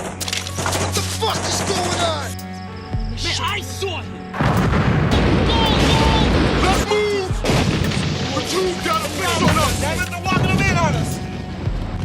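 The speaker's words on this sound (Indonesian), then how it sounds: "Tembakan yang juga sekaligus memberitahukan posisi mereka pada mortar-mortar Vietcong" Gunfire and mortar fire from a Vietnam war film: rapid shots and heavy booms burst loudly and densely, with voices speaking over the battle noise.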